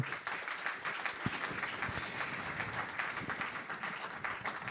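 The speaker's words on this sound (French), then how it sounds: "sous vos applaudissements, s'il vous plaît" Audience applause in a hall at a Gers awards ceremony, a steady wash of many hands clapping throughout, moderately distant and without clear talk over it.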